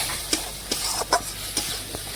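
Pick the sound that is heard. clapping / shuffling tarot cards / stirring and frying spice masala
stirring and frying spice masala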